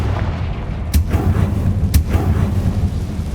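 Confringo fire spell explosions in Hogwarts Legacy, two sharp booming blasts about a second apart over a low rumbling game background, loud and close with no talk.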